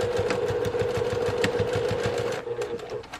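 A sewing machine stitching back and forth through vinyl on a cosmetic bag, a close, fast, even run of needle clatter over a steady motor hum that slows and stops near the end.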